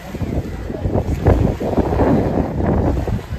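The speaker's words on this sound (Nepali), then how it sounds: "अहिलेको मौसम चाहिँ पानी पर्न लाग्यो हावाहुरी चलिरहेको छ" Strong gusty storm wind with rain buffets the microphone in steady rumbling bursts beside a swollen river, with a faint watery wash underneath and no voices.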